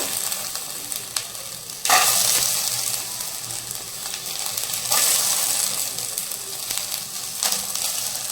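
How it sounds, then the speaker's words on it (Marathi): Field beans (pavta) dry-roasting in a pan, a steady crackling sizzle with periodic scraping stirs and louder bursts as the beans are turned. "छान असे त्याचा कलर चेंज होईपर्यंत असं भाजायचं आहे आपण"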